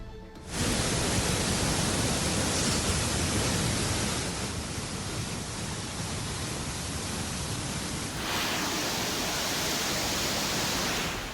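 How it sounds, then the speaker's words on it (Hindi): Roaring flood river swollen after a cloudburst in Doda, a loud, steady broadband rush of water that continues unbroken throughout, with no voices. "नदियां गर्जना भर रही हैं।"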